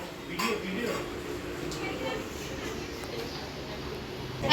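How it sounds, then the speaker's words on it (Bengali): Quiet clinks and knocks of plates and dishes being set out, with low voices murmuring in the background. "তার জন্য এখন থালা সাজানো হচ্ছে"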